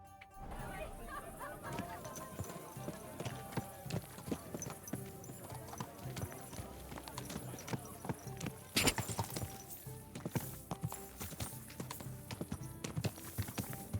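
Horse hooves clip-clop steadily in the medieval open-world game Kingdom Come: Deliverance II, a continuous close rhythm of footfalls with game ambience, an occasional snort and a louder burst near the middle.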